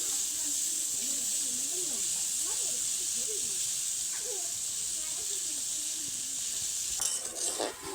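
Colored boondi, gram-flour drops, fry in hot oil with a steady bright hiss throughout, while a voice talks softly over it.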